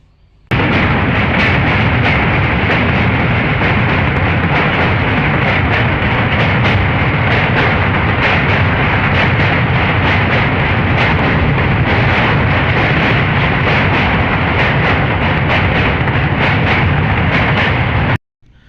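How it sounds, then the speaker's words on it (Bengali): A train crosses the old Lalon Shah bridge, a loud, dense rumbling roar that holds steady for nearly the whole stretch and then cuts off. "লালন শাহ সেতুর ওপরে যে ট্রেনের যে শব্দটা, এই শব্দটা সব থেকে ভালো লাগছিল আর কি।"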